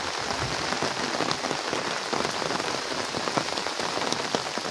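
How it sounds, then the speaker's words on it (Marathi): Heavy rain pours down beside a fish pond near a Ganesh temple in Wagholi village, Nallasopara: a dense, constant hiss of drops hitting surfaces, loud and unbroken throughout, with no talking. "पाऊस पण खूप लागतोय."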